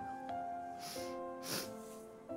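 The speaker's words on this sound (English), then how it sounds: "I'm sorry about the sniffling." A couple of short, breathy sniffs rise above steady background music, faint and close, with no talking.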